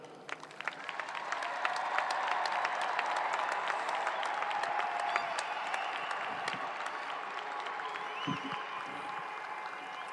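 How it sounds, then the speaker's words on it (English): Applause from the audience at the Ironwood High School 2021 graduation ceremony for the senior class, a steady crowd clapping that builds in the first seconds and holds moderately loud, with scattered whoops and stray sounds. "Ladies and gentlemen, please applaud the class of 2021."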